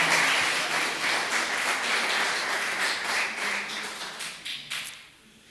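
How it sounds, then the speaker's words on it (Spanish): A church congregation breaks into broad, continuous applause during a Spanish-language sermon, loud and steady before thinning out and fading near the end. "denle un aplauso al Señor"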